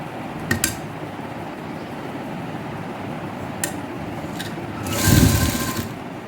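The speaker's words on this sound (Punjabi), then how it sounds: "ਇੱਥੋਂ ਰੱਖ ਕੇ ਸੀਨ ਲਗਾ ਦੇਣੀ ਸੀਨ ਕਿਸ ਤਰ੍ਹਾਂ ਲਾਉਣੀ ਆ ਦੇਖੋ ਜੀ" A sewing machine stitches a seam on a suit, with a few sharp clicks and taps first, then a short loud whirring burst of stitching near the end.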